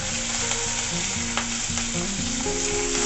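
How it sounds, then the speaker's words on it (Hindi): Cumin, curry leaves, green chili and ginger paste sizzle steadily in hot oil in a kadai while being stirred, a loud continuous frying hiss throughout. "10 से 20 सेकंड के लिए हम सारी चीजों को चलाते हुए अच्छी तरह से भून लेंगे।"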